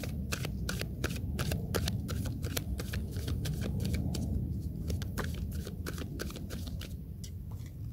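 Oracle cards are shuffled by hand for a reading, giving a steady run of quick, close riffling and flicking sounds that continue without pause and without speech.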